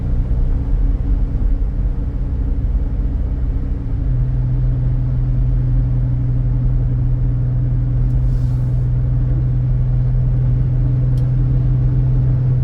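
A 2000 Toyota Avalon climbs a hill, heard from inside as a loud, steady low engine and road rumble whose drone settles into a constant hum after a few seconds.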